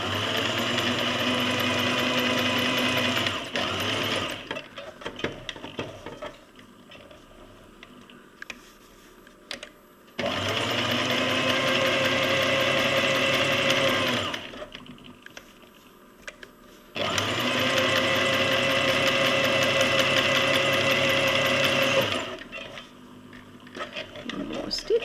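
A sewing machine stitches a cloth pad in three long, loud, steady whirring runs, each lasting several seconds, separated by brief quieter pauses with small handling noises.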